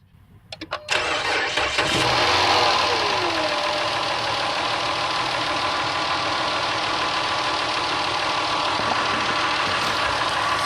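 A 2010 Dodge Charger SXT with a 3.5L V6 and a failing alternator cranks a few times, catches, then settles into a loud steady idle with a thin, persistent whine riding over the engine noise, heard close up.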